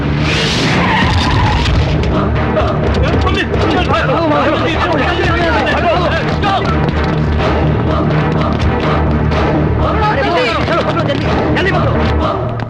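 A car in a South Indian film action scene skids loudly with a long, continuous tire screech over engine noise, while voices and crowd babble carry on beneath.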